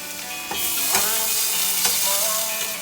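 Butter sizzling in a pot for an omelette, a loud steady frying hiss close up with a few soft clinks of stirring.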